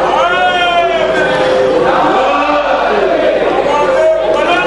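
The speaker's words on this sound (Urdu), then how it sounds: "نعرے حیدری" A crowd at a Shia majlis gathering in Jogipura, Bijnor, India, raising the Nara-e-Haidari chant, loud massed voices rising and falling continuously throughout, close and full.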